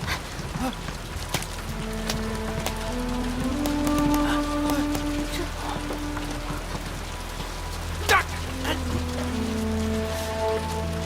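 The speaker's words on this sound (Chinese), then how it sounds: "天上下雨了！" Steady rain pattering on a surface by the sea, a continuous hiss with scattered louder drops and a low background hum throughout.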